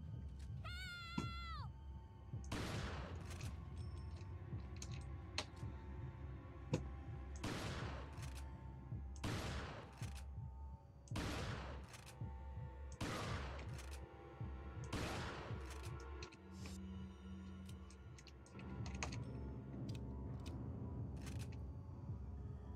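Gunshots from Resident Evil 4 ring out as separate sharp blasts, roughly a dozen spaced a second or two apart, each with a short decay over quiet game ambience.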